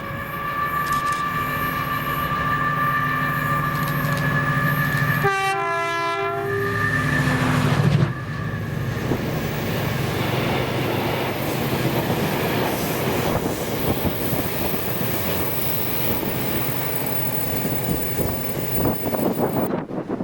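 Freight train 6R38, Aberdeen Waterloo to Irvine Caledonian Paper service, rumbles past close by with a loud continuous roar, sounding a strong two-tone horn blast midway before the wagons keep clattering on steadily.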